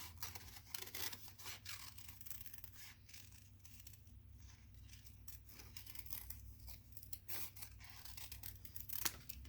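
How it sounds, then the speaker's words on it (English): Quiet, close snipping of scissors cutting paper around a card design, a series of soft crisp cuts over a low background hum. "I'm just going to kind of outline it a little bit with my scissors, following that design."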